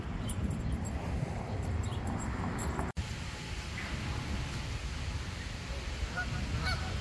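Geese and goslings honk in the distance against a steady outdoor rumble near construction, with a few scattered calls rising over the background noise.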